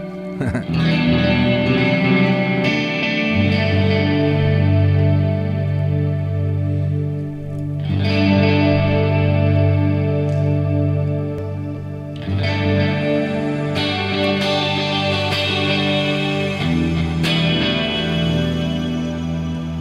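An electric guitar run through effects and then a cabinet rings out in dense, washy chords thick with chorus, distortion and echo, swelling in repeated waves over about twenty seconds.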